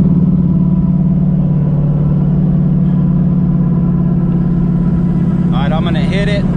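Interior drone of a turbocharged car on open-loop boost control with dual MAC valves and wastegate spring pressure: a loud, steady low engine hum with road noise and a brief high chirping whistle near the end.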